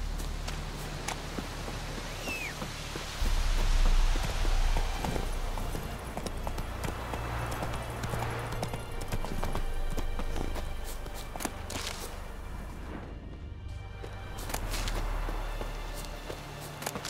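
Roach, Geralt's horse in The Witcher 3, gallops with a steady stream of rapid hoofbeats on the ground, continuous and fairly close, over a low windy outdoor ambience.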